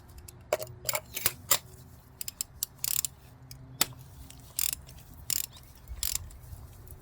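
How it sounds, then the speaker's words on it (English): Ratchet fitted with a 5/8 spark plug socket loosens spark plugs on a Hyundai Tucson, giving scattered short clicking bursts and metallic ticks with gaps between them, close and moderately loud, no talking. "We're going to be using a 5/8 spark plug socket."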